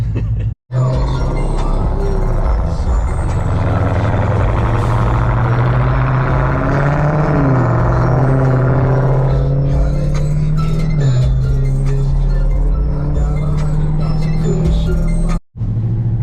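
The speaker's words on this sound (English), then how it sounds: "There's a few cars out here testing and tuning today" Road vehicles run at a drag racing track during a testing and tuning day, a loud steady engine drone with a low rumbling tone that shifts in pitch midway. There are brief dropouts near the start and end.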